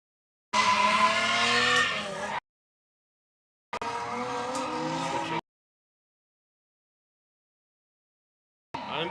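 Drift cars at Lead Foot City screeching their tires in long loud squealing bursts, two sustained runs of about two seconds each with silence between and a third starting at the end, engine tone under the squeal.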